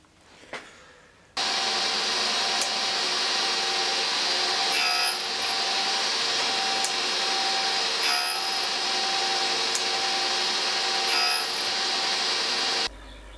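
A machine grinds the teeth of a shop-made spur gear for a Gardner marine diesel engine, a steady, loud whine with high tonal lines that runs about eleven seconds, with brief surges, then cuts off abruptly.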